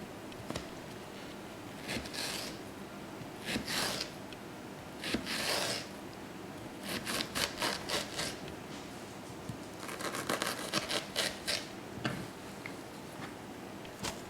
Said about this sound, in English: Cut the roast into slabs.